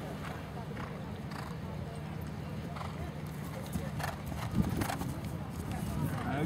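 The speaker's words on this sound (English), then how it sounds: "The horses have got to put a lot of power into jumping through here." Horses doing a show jumping exercise in an eventing display, their hooves clip-clopping in steady rhythm with the odd whinny, under someone talking.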